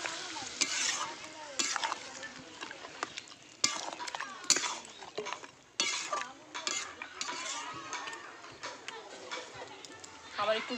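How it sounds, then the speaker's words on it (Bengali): Mutton stir-fried with black pepper powder and a splash of water in a clay pot, giving a steady sizzle broken by repeated scraping, clattering strokes of the spoon against the pot, close and fairly loud throughout. "গোলমরিচের গুঁড়ো, সামান্য একটু জল দিয়ে ভালো করে কষিয়ে নেব।"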